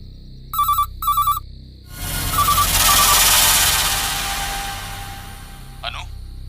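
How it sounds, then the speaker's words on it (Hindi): A landline telephone in a Hindi-dubbed action film scene gives two quick electronic ring bursts, then a loud rushing swell of dramatic noise drowns it out. "इस लैंडलाइन पर रिपीटेडली कोई फोन कर रहा है।"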